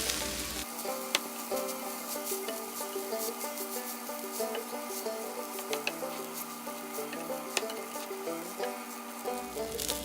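Pork fried rice seasoned with salt and pepper is stirred in a hot pan, giving a constant close sizzle with faint scraping, running beneath a steady tonal background with no voices.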